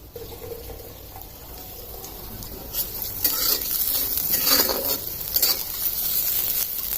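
Onions frying for a fish curry, a soft sizzle that grows louder as a utensil stirs and scrapes through the pan, with occasional clatters.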